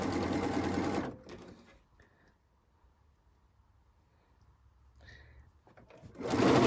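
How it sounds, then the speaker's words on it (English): A sewing machine stitches fabric edges while making Christmas placemats, running in a loud steady burst, pausing to near silence for several seconds, then starting up again loudly. "I'm going to sew 3 edges."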